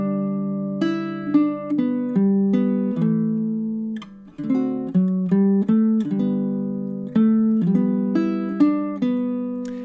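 A baritone ukulele plays a chord-melody arrangement of Danny Boy, steady plucked chords ringing and decaying one after another, close and clear with no talking.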